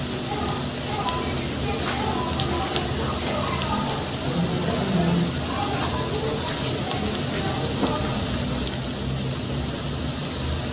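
Chopped onion and garlic frying in a pan as the onion starts turning golden, a loud, constant crackling sizzle that runs unbroken from start to finish.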